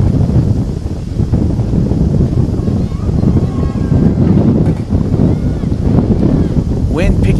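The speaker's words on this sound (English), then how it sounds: "Wind picking up again." Strong wind buffeting the microphone at an outdoor girls' high school soccer game, a loud continuous rumbling roar with no break.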